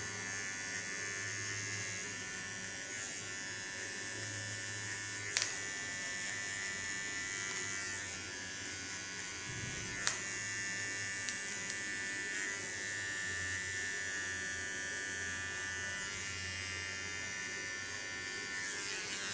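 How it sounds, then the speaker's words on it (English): A small Theo Knoop hair clipper buzzes steadily and close for the whole stretch, a constant electric whine with a couple of brief clicks and slight load changes. "Nice thing about this clipper blade of Theo Knoop is that it is a very small one"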